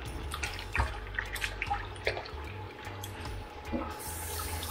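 Tap water runs into a kitchen sink while food for a Jamaican curry chicken is rinsed, a steady close flow broken by splashes and clunks of handling, with a brief spoken exclamation.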